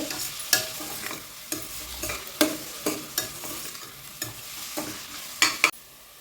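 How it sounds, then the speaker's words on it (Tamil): Onions sautéing in a pan for mutton curry, a soft continuous sizzle punctuated by about a dozen sharp spatula scrapes and taps against the pan at an uneven stirring rhythm, close up with no voices. "இந்த வெங்காயம் நல்லா வதங்கணும் ஒரு ரெண்டு நிமிஷம் மூணு நிமிஷம் நல்லா வதங்கணும்"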